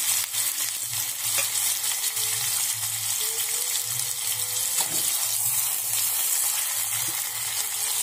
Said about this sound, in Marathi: हे तेलात आता व्यवस्थित भाजू द्या।